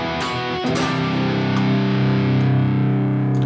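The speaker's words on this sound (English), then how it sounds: "Now I want to have maybe a little bit more distortion." Electric guitar played through an amp with distortion dialed toward a lead tone, a few struck notes and chords ringing out and sustaining thickly, loud and alone.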